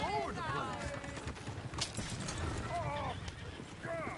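Horses pulling a coach in the video game Red Dead Redemption 2 give off a clatter of hooves and whinnying neighs, mixed with shouting voices and commotion in the foreground.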